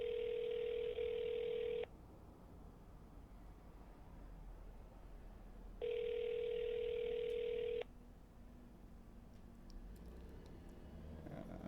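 A telephone ringback tone while calling an old friend: two long rings separated by about four seconds of quiet line hiss, heard through the handset with no talking.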